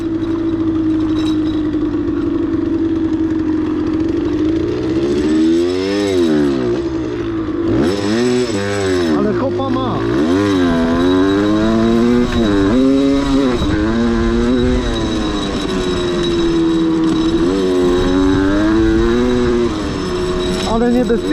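A KTM LC2 motorcycle engine revs and surges loudly while riding, its pitch climbing and dropping repeatedly with throttle changes throughout, close and continuous with no talk.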